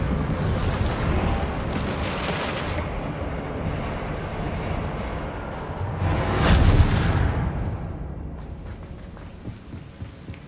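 The Reparo repair spell in Hogwarts Legacy plays in a mine, a low rumbling, grinding swell that builds to a sharp crashing burst midway and then fades back into a dull roar.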